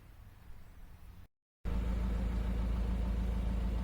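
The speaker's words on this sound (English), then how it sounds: "I do now have the engine running" A Citroen C4 Grand Picasso with an air suspension fault has its engine idling. After a faint hum and a brief silent break, a loud, steady low rumble settles in and runs evenly to the end.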